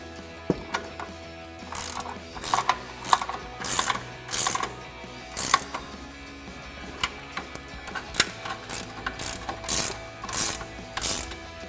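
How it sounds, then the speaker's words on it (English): A 17mm ratcheting wrench tightening strut nuts on a Toyota Tacoma with leveling strut extensions, close bursts of rapid clicking ratchet strokes repeating in an uneven rhythm with short pauses between. "we're going to go back up top with a 17mm ratcheting wrench to tighten down our 3"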